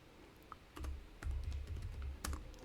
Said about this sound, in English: in the search bar, I'm going to type Gemini